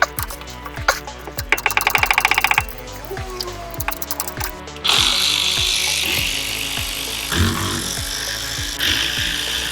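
A power tool rattles and ratchets loose the axle nuts on a BMW E36 rear subframe, with rapid impact hammering followed by a harsher, sustained mechanical whir, close and loud.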